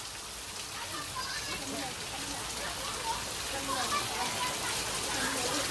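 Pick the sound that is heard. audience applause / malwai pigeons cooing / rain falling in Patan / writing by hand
rain falling in Patan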